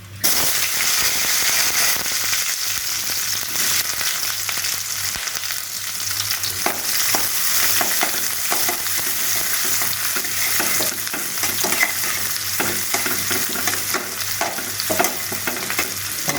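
Onions frying and being stirred in a pan for mutton kuzhambu, a continuous loud sizzle with crackling pops and occasional scraping throughout.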